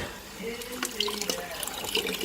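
Water gushing from an aquarium canister filter hose on a 50-gallon tank during maintenance, a continuous splashing trickle with scattered drips, close by and fairly quiet, with a voice briefly over it.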